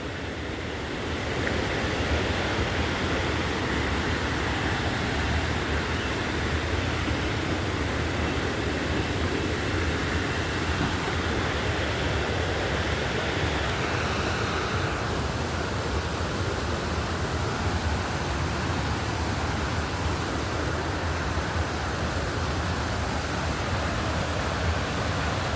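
A waterfall rushes from a distance as a broad, steady roar that stays constant for the whole stretch, with no voices.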